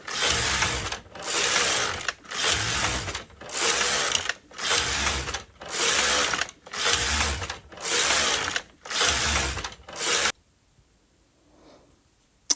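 A bulky knitting machine carriage is pushed back and forth across rows, giving eight loud, rhythmic mechanical whooshing passes with short pauses between them before falling quiet.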